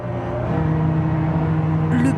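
The engine of a restored WWII landing barge, afloat off Noirmoutier, roars loudly and steadily with a deep droning hum, and a short higher whine rises near the end.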